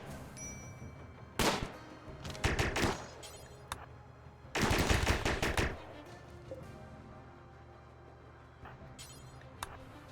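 Bursts of automatic gunfire from a RimWorld battle: a short volley, two rapid clusters, then a longer sustained burst, followed by scattered faint single shots and quiet.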